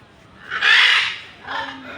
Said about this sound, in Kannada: ನೋಡಿ, ಅಲ್ಲಿದೆ ಕ್ರೆಸ್ಟೆಡ್ ಕೊಕೆಟೋ